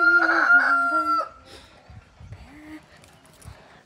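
A rooster lets out one loud, close crow, followed by quieter clucking and scattered rustling from chickens nearby.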